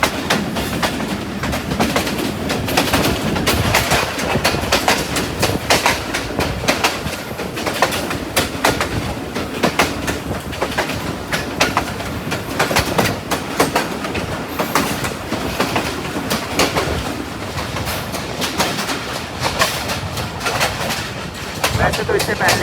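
The rerouted Mianwali Express passenger train runs on rails in Pakistan with a continuous loud rumble and rattling wheel noise that holds steady throughout.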